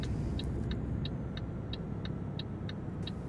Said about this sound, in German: jetzt natürlich hier ein LKW